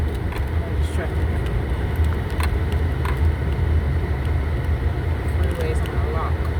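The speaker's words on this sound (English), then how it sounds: "All this traffic." Steady low rumble of slow, jammed freeway traffic, a dense continuous wash of engines and tyres close by, with occasional brighter passing swishes and no clear voices.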